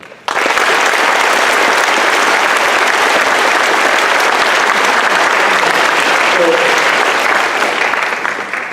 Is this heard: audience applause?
yes